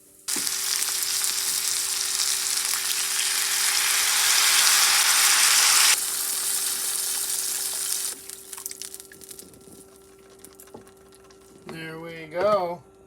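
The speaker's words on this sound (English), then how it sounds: "going to return this rabbit to the pan, cover it with some vegetable broth" Steady, loud sizzling and bubbling of rabbit pieces cooking in a pan with vegetable broth, seasoned with herbes de Provence, continuous for several seconds before easing to a quieter simmer, with a short voice near the end.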